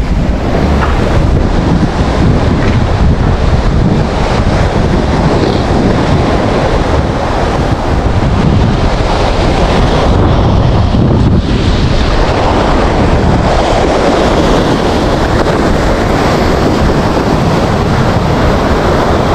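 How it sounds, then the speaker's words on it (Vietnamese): Sea waves roll and wash steadily at the Thuan An estuary, a continuous loud surf roar mixed with strong wind buffeting the microphone, with no voices over it. "Con sóng rì rào"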